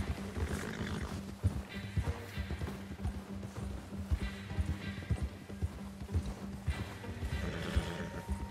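Galloping horse hooves pound in a rapid, uneven clip-clop in Red Dead Redemption 2, with harness jingles and a brief whinny-like cry over a low rumbling background.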